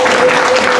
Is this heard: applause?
yes